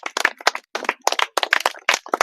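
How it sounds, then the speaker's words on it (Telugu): Schoolchildren at an upper primary school clap together at an environmental awareness event, loud close bursts of applause in short uneven volleys with brief pauses between. "క్లాప్స్ కొట్టండి."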